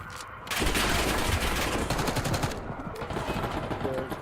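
Sustained automatic gunfire in a multiplayer shooter video game, a dense continuous rattle of rapid shots starting after a brief pause and running throughout, with faint speech mixed underneath.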